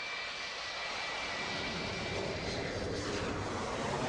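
Jumbo jet engines roaring, a loud, continuous broadband rumble and whine that holds steady and swells slightly near the end.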